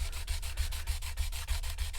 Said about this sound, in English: Just gonna wrap it up just like so, and start sanding